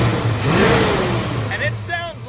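The engine of a 1968 Dodge Dart sedan revs up close, rising and then easing back in pitch, with brief voices near the end.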